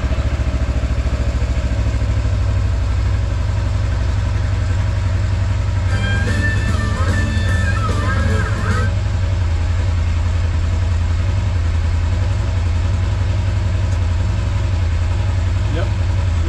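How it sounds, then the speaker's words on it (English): A 2023 Kawasaki Teryx KRX 1000 side-by-side idles steadily after being started, a loud, constant low engine rumble running the whole time with a brief mechanical clatter partway through. "Yep, running, idling good, and sounds pretty good."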